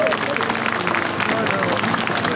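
A crowd at a Ukraine support rally in London cheers and claps continuously, a dense, steady roar of voices and applause filling the space throughout.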